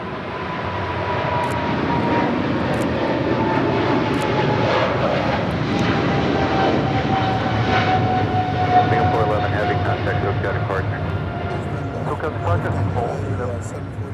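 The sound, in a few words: Boeing 747-8 aircraft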